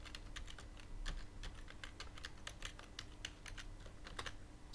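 Steady run of quick key clicks as a password is typed on a computer keyboard, close and moderately quiet over a low room hum, with no talking.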